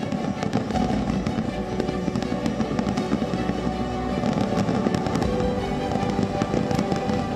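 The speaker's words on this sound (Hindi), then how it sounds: "आतिशबाजी से गूंजता समा।" Dense, continuous crackling and booming of New Year fireworks, many bursts overlapping in a steady barrage with no voices.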